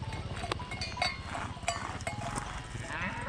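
A cow out in the Carpathian mountains is heard up close, with animal snorts and livestock sounds, light knocking and faint cowbell-like tones over a steady outdoor background.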